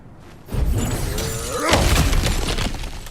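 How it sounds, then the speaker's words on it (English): Breakable objects shatter in God of War Ragnarok on PC, with a loud burst of splintering and crashing debris, a heavy thud and a rattling clatter that trails off. "back to smashing through things for fun and profit"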